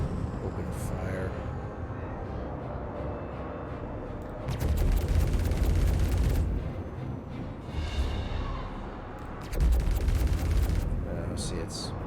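Gunfire in the space sim Star Citizen Alpha 3.6.0: two loud, sustained bursts of rapid shots over a constant rumbling background, with a voice talking in between.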